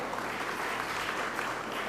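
A school annual day audience applauding steadily for a couple of seconds, the clapping fairly soft and blended into an even wash of sound.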